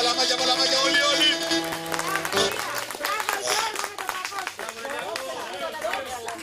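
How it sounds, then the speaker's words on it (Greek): Hands clap rhythmically among a group, with lively voices and chatter mixed in, fairly close and energetic. "Παλαμάκια, παλαμάκια, παλαμάκια, όλοι, όλοι!"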